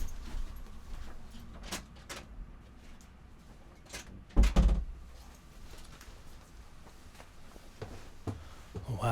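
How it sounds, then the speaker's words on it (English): A dog knocking against a door to be let out: a handful of scattered taps and bumps across several seconds, with one heavier thud near the middle, faint and fairly close in a quiet room. "My dog is knocking to get out of the door."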